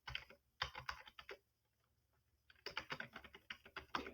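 Rapid keystrokes on a computer keyboard, close and crisp, in two bursts of quick tapping separated by a brief quiet pause, with no voices.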